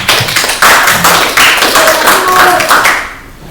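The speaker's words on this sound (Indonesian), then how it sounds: "Tepuk tangan dulu untuk Pak Latari" A small group claps for Pak Latari at a school meeting, the claps coming in short uneven bursts of a few hands with brief gaps, loud and close, then fading out at the end.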